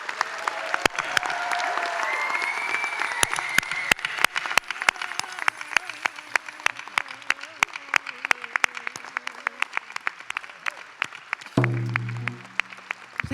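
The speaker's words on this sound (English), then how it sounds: "I'd like a nice round of applause for these amazing graduates, the class of 2022 at the University of Saskatchewan" Scattered rhythmic claps and cheers greet the class of 2022 graduates at a University of Saskatchewan Indigenous graduation celebration, crisp individual hand claps over a murmuring crowd, ending with a low rumble.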